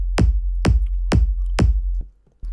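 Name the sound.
two layered electronic kick drum samples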